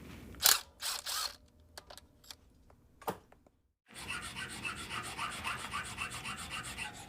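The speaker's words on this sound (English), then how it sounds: "We have to sand this down to achieve a gap of between 5/8 thousandths of an inch" A car part being sanded down by hand during a budget drag car build: a few scattered scrapes and knocks, a brief pause, then a steady, continuous close rasping rub.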